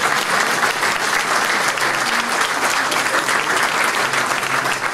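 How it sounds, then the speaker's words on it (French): A crowd at an evening village show gives sustained, dense applause, steady and loud from start to finish with no pauses. "on peut faire un applaudissement total pour le Scaparia"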